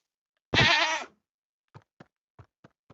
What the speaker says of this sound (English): we have goat now